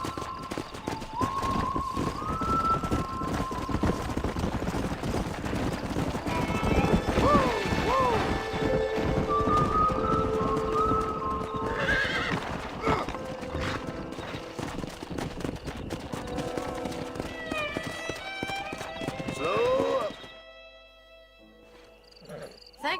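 Horses clip-clop and trot in Red Dead Redemption with an occasional whinny, hooves steady and close over game music and ambience for about twenty seconds before fading to near quiet.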